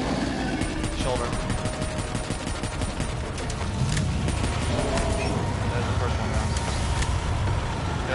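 Continuous automatic gunfire in Call of Duty Black Ops zombies as a player shoots at a dragon's shoulder, dense rapid bursts running throughout with a voice talking over them.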